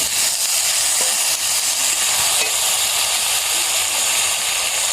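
Potatoes and tomatoes drop into a frying pan of fried onion for a fish curry, setting off a loud, steady hissing sizzle throughout.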